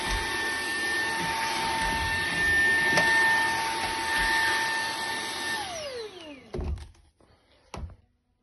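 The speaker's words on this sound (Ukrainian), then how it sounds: "Подивіться, як гарно все пропилососило." A household vacuum cleaner running loudly with a steady whine, then powering down as its pitch slides away, followed by a couple of hard plastic thunks as the machine is handled.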